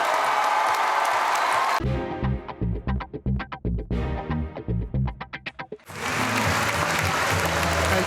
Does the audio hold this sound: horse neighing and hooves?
no